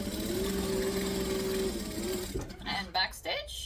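Sewing machine running steadily for about two seconds as a seam is back-stitched, a fast even needle rhythm close by, then stopping into short handling clicks and rustles.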